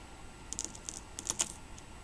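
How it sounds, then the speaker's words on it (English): Scissors snip across the wires of a CAT5 ethernet cable, leaving a handful of quick, crisp close-up clicks in a short burst. "Scissor works good, it gives you a nice clean edge."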